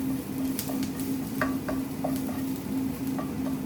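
Salt and pepper chips sizzle steadily in a hot pan while a utensil scrapes and stirs them toward one end, with soft repeated clicks and scrapes over a constant frying hiss.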